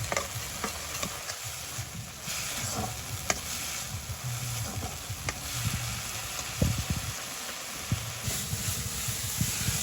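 Vegetables fry and sizzle steadily in a pan as a little water is added in a Hatiya village kitchen, with a soft continuous hiss and occasional stirring clicks, no talking.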